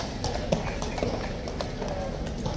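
Horse hooves clip-clop on pavement at a King's Guard post, a steady series of nearby hoof strikes under continuous crowd chatter and talking.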